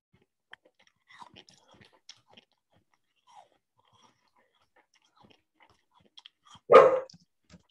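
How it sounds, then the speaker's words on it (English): A single loud dog bark bursts out near the end of a quiet room stretch with faint murmurs and small clicks, close to the microphone. "I'm sorry, that is my dog."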